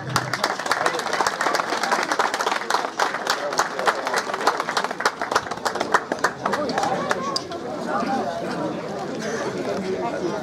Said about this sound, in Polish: Proszę, wielkie brawa.